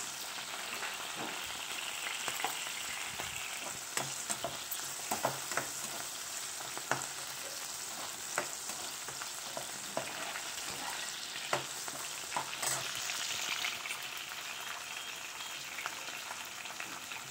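Green chillies frying in oil, a continuous close sizzle and crackle with scattered pops and occasional stirring, lasting throughout without any voices.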